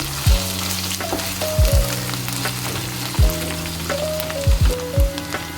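Koi fish searing in a pan with ginger paste, a steady loud sizzle of frying oil with occasional stirring scrapes and clanks of a utensil against the pan, close up and without talking.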